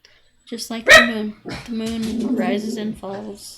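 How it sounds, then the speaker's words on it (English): A dog gives a short bark or two in a home, partly masked by someone talking steadily close to the microphone. "excuse the dogs."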